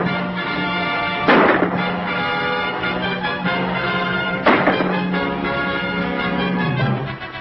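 Gunfire in a 1940 western film, with two booming shots about three seconds apart over a steady hum and hiss of old film sound, loud and close.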